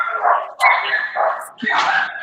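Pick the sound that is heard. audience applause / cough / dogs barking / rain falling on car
dogs barking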